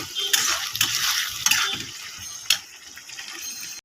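Dal being fried and stirred with spices in a pan, a steady broadband sizzle with repeated scraping strokes of a utensil, close and fairly loud, with no talking.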